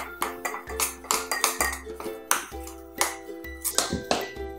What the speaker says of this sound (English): Now, we're gonna put our apples into our muffin mix. And now we will mix it.